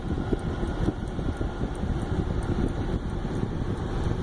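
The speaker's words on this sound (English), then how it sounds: "This wind has been crazy." Strong gusting wind blowing through a yard where trees have been broken and toppled, a steady loud roar with rumbling buffets on the microphone, no voices.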